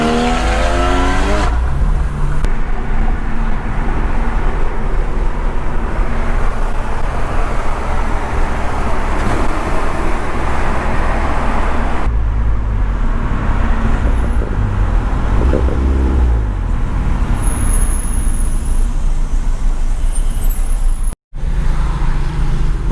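Porsche GT4 at a Mini Cooper Works car meet: a loud, continuous engine roar close to the microphone that rises as the car accelerates past, with traffic noise and a brief cut near the end.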